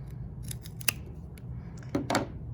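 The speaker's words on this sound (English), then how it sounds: "So cut straight to the outside corner." Scissors snip through stiff craft banner material for a LOVE banner, several short crisp cuts at close range, with a sharper blade snap near the start and a quick cluster of cuts toward the end, no voices.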